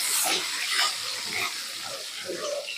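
Dried red chilies fry in hot oil with a steady, crackling hiss and scattered spitting pops, close and continuous, while a voice talks faintly underneath.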